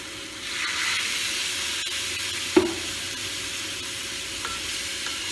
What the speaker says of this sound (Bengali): ওইদিকে গরম জল আমি এখানে একটু একটু করে দিচ্ছি।